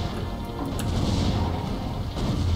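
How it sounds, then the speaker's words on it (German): A meteor strike lands in the tower-defense video game Defense Grid: The Awakening, giving a dense, roaring crash and rumble that sustains for a couple of seconds amid game noise. "Und dann klatsche ich hier Meteor hin."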